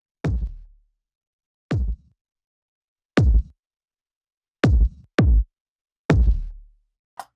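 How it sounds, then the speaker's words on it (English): Kick drum saturated through a Chandler Zener limiter in THD mode, six isolated booming hits with short decays separated by silence, loud and dry. "I send the kick to a parallel channel, which is this"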